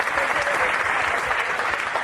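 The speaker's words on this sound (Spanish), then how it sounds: "Vamos a darle un aplauso a Jesús Eucaristía fuerte de entrada." Sustained audience applause fills a church gathering during a family Eucharist talk, a dense, steady patter of many hands clapping together close by for the whole moment, with no voices standing out.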